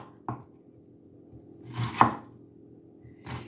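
A knife chopping an onion into thin wedges on a cutting board in a home kitchen, a few separate close taps spaced irregularly, quiet between strikes.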